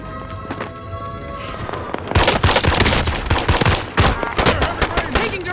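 Dense rapid bursts of automatic gunfire from a shooter video game, a quieter stretch giving way to loud, close, sustained firing with overlapping shots and a voice speaking briefly.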